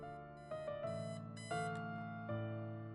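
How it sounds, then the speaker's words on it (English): Beeping in the video game Watch The Road, a set of electronic alarm-like tones heard alone and fairly quietly, with several tone changes over a few seconds. "What was that beeping?"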